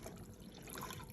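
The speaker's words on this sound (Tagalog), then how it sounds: "ibubuhos na po namin dito yung tubig" Water pours steadily into a container of eggs being salted, a continuous splashing rush with no talk.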